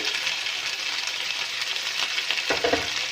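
Corn and chicken are stirred through pasta in a hot cooking pan, a steady close sizzle with scraping utensil strokes growing more pronounced toward the end.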